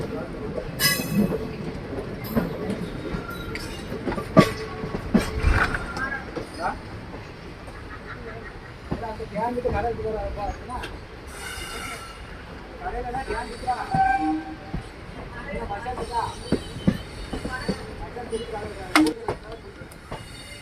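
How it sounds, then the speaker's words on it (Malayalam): A train rolls slowly into Madurai Junction railway station with low rumbling and occasional metallic squeals and clanks, steady throughout, with faint voices and station bustle in the background. "നമ്മുടെ ട്രെയിൻ അത് അങ്ങനെ പതുക്കെ മധുരൈ റെയിൽവേ സ്റ്റേഷനിലോട്ട് ഇതാ കയറിക്കൊണ്ട് നിൽക്കുകയാണ്"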